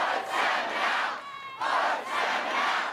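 A large protest crowd in Tasmania shouts in rising, rhythmic waves of chanting, loud and dense, with a brief dip before the roar swells back.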